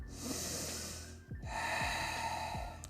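Deep breaths during a yoga plank workout, two long airy nasal inhales close to the microphone, the second following a short break, with soft background music.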